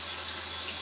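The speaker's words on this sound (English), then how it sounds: "the kettle just boiled, so I'm just going to pour the water in." Freshly boiled water pours from a kettle, a steady broad rushing splash that lasts the whole short moment, close and fairly loud, with no talk.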